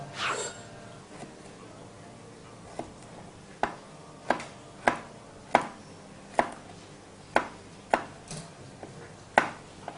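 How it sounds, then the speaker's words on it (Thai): A knife chops garlic steadily on a cutting board, a series of sharp, evenly spaced taps close by, with a few quieter strikes before the rhythm settles. "เราไม่ต้องหั่นละเอียดมาก"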